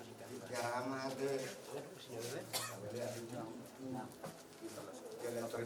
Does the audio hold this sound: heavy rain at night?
no